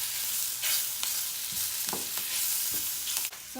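Onions sauté in a pan with a steady, close sizzle and broadband frying hiss, broken by several soft scrapes and stirs of a utensil, with no voices.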